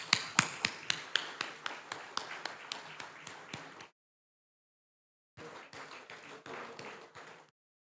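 An audience applauding to mark thirty years of the internet in Ghana at the Africa Internet Summit 2025. The sound is a steady run of sharp, close claps, stopping abruptly, then a second shorter burst after a silent pause.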